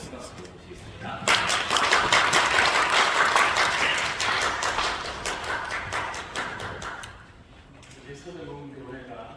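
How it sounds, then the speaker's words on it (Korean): A church conference audience applauds to welcome a pastor, with brisk clapping that rises suddenly, holds for several seconds, then thins out as a voice begins speaking. "우리 목사님도 큰 박수로 모시겠습니다."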